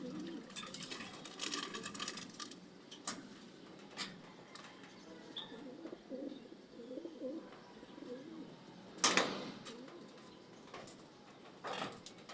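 A pet pigeon coos softly in a quiet room, with faint intermittent calls and light rustling, plus one louder burst of fluttering or movement near the end.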